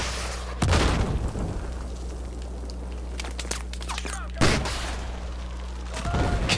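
Heavy booming explosions in a Battlefield 4 multiplayer match, two big blasts about four seconds apart with a rumbling low drone and scattered crackles between them.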